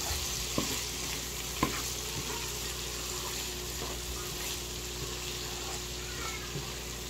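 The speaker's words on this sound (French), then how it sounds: "je vais un peu baisser mon feu pour laisser cuire mes crevettes" Shrimp frying over lowered heat in a pan for a shrimp rice dish, a steady soft sizzle with a low hum beneath and a couple of faint clinks of a utensil.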